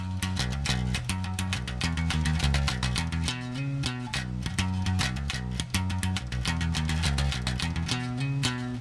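Bass guitar strung with flatwound strings, played with full, dense repeated notes in a steady driving rhythm; loud, close and continuous, with no talk.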